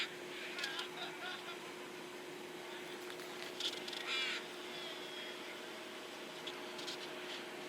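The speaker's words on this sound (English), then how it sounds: "Birds rule this place." Crows caw repeatedly from a short way off at a harbor in Cordova, Alaska, with other bird calls mixed in over a faint steady hum and outdoor background.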